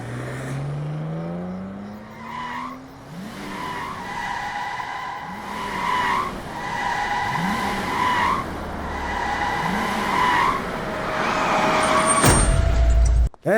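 Car pulling away in a Bhojpuri film scene: a rising engine drone gives way to repeated tire skids and squeals, loud and close, ending in a sharp burst, with no talk over it.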